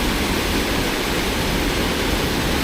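Rushing white water on the Fox River running high, a dense, unbroken roar of churning current close by, loud and steady with no voices.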